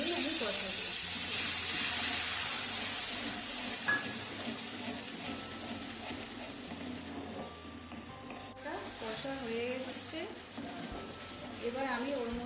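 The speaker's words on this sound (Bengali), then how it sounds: "অল্প জল দিয়ে আমি কষাবো" Egg curry masala being sautéed with a little water and sugar in a pan, heard as a soft, moderate sizzle with occasional stirring, partly under a person talking.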